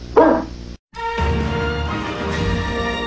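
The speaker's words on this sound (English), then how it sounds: "Sit, Ubu, sit. Good dog" A dog gives one short, loud bark right at the start, then a brief silence before band music from a nearby room takes over and plays steadily to the end.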